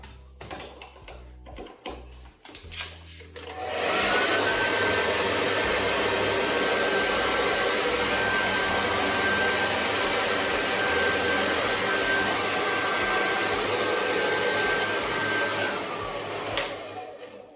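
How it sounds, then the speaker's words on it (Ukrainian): After a few clicks and handling sounds, a hair dryer roars on and blows loudly and steadily with a faint whine, close by. "зараз я буду підсушувати своє волосся феном"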